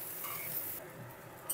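Okra fries in a pan with turmeric, giving a steady close sizzle with a few light stirring sounds and no talk.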